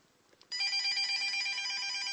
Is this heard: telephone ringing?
yes